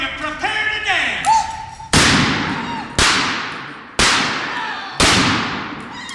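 Gunshots ring out at an outdoor western stage show: four loud, sharp blank shots fire about one second apart, each echoing away, after shouted talk and voices at the start.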